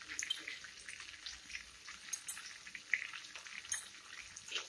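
Ginger and garlic paste frying in oil with bay leaves, a soft continuous sizzle and crackle, faint and steady throughout.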